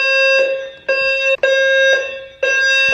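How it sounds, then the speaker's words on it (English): A building fire alarm under test blares close and loud, a piercing electronic tone in long bursts broken by short gaps. "they're testing the fire alarms, like I literally just said, and they just started going off"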